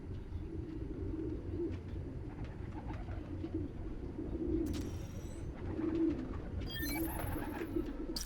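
Pigeons coo over a steady park ambience in Spider-Man: Miles Morales, with low throaty calls repeating throughout and a few brief chirps and higher bird calls near the end.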